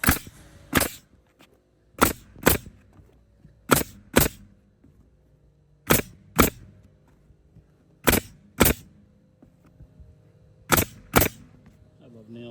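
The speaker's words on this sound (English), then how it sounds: "I love nail guns." A pneumatic nail gun tacks down roofing in sharp, close bangs that mostly come in quick pairs, about ten shots with short quiet gaps and faint background noise between them.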